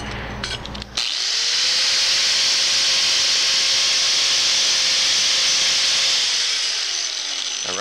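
A grinding stone on a power tool rounds out a torch-cut hole in steel, a loud, close, sustained high whine that starts abruptly after a brief clatter and holds steady for several seconds before easing slightly.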